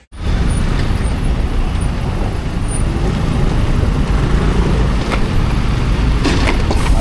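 Steady, loud road noise heard while riding a motorbike in traffic, a continuous broadband roar of wind and passing vehicles with no talking.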